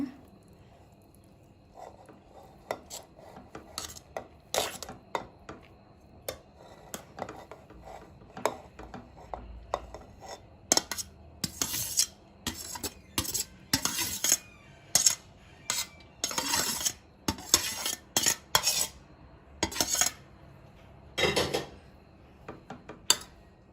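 Cooked rice goes into the pot of hot chicken for Hyderabadi chicken dum biryani. A spoon clinks and scrapes against metal in irregular taps that grow busier and louder partway through.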